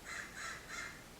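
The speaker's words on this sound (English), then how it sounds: "I don't know if you can hear the crows in the background" Three crows caw in an even rhythm, each call a harsh, drawn-out rasp, faint and distant in the background with no talking.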